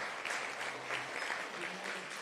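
Soft, distant applause from an audience at a public meeting on state and federal budgets, a continuous wash of clapping at low volume with faint murmuring underneath.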